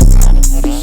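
An electronic beat drop with a growling lead and deep 808 bass hits, a loud, dense burst of low booming notes and bright accents lasting under a second.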